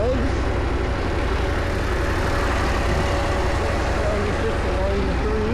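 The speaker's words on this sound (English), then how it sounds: "You just started it up and the fan kicks on" A KTM 890 Adventure R motorcycle idles after a fresh start, its engine a steady low rumble with a cooling fan whirring on top, loud and continuous from start to finish with no voices.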